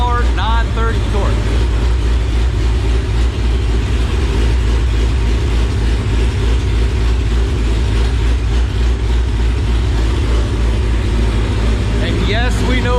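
A 392 cubic-inch 6.4 Hemi V8 fed by a Holley Dominator roars at full load on a dyno, a loud, dense, sustained drone that holds steady across the run with faint voices mixed in.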